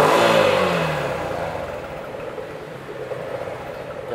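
A used Yamaha Exciter 135 motorcycle engine revs loudly up close, then its pitch drops as it settles toward a low, steady idle.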